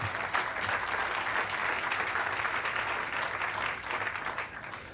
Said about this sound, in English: Let's give a round of applause for Mayor Lee.